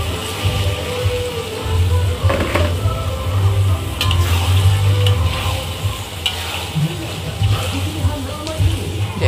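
Shrimp stirred and fried in chili paste for sambal tumis, a close, crackling sizzle with repeated spatula scrapes and clatter against the pan, steady throughout.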